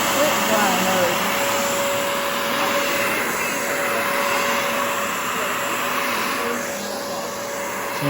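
Shark CarpetXpert carpet washer with Stain Striker running in dry mode, a loud, steady motor whine and airy suction roar that holds throughout with a slight dip near the end.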